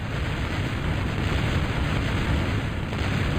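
Flak cannons fire at incoming bombers in a video game, a dense continuous barrage of booms and bursts blending into a loud, steady roar with no pauses.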